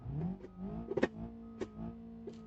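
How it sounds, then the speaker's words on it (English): Engine of a stock 2013 manual car idles and revs briefly, a steady low hum with a few short sharp bursts, heard alone at moderate level. "Now listen to this engine."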